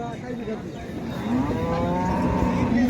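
A red Kandhari bull at a busy village cattle market lows in a long, rising moo that swells louder toward the end, over crowd murmur.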